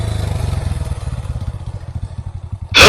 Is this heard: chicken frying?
no